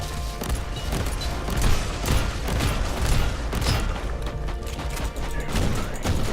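Pistol fire in the video game Warhammer 40,000: Inquisitor - Martyr: a dense run of sharp shots and mechanical clatter over a constant, busy game soundscape, moderately loud throughout.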